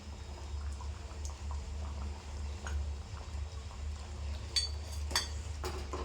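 A low, steady bubbling simmer of snake gourd gravy in a pot on the stove, with occasional soft clinks and small pops over the top.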